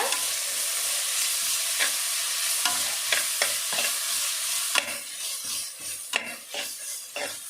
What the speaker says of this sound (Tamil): இதை நல்லா வதக்கி விட்டுறலாம்